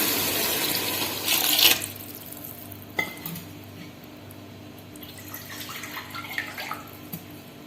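Cooking water from boiled mutton is poured into a pot for mutton biryani, giving a rushing, splashing pour for the first couple of seconds and then faint drips, clinks and stirring sounds at moderate distance.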